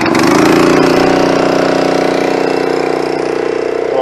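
Honda gas engine driving a hydraulic log splitter with a plugged return filter, running steadily and loudly up close with a continuous droning hum and no talk throughout.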